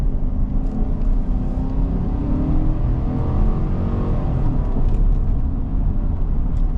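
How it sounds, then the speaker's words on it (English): GMC Sierra SLT truck accelerating hard from 25 km/h, a steady loud engine roar with rising tone and road rumble heard from inside the cab, no talking. "hard acceleration from 25 kilometers an hour to wherever we get to"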